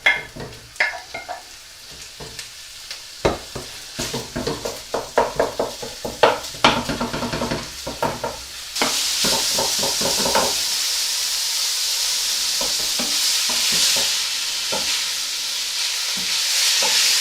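Beef mince frying in a hot pan, first with a run of sharp, rhythmic scraping stirs over a sizzle, then a louder, steady hiss of browning meat, close up with no voices.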